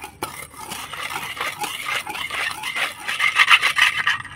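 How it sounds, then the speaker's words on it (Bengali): Cake batter made with ripe palmyra palm fruit is stirred with added milk in a bowl, giving a steady wet rubbing and scraping of the spoon against the bowl that grows a little louder toward the end. "দুধটা দিয়ে ভালো করে আরও একটুখানি মিশিয়ে নিব।"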